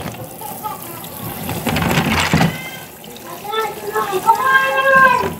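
Water runs and splashes over hot, freshly cooked litob shellfish being shelled for sisig, a steady close gush that swells toward the end, with a voice audible in the background.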